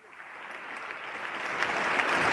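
Applause from the chamber audience at the 2014 State of the Union address, a dense wash of clapping that swells steadily louder over a couple of seconds.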